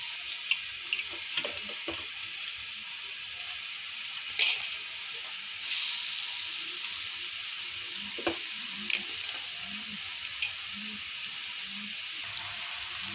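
Chicken frying in a pan with onions gives a continuous soft sizzle, broken by occasional clinks and stirring scrapes; the cooking sounds are faint and there is no speech.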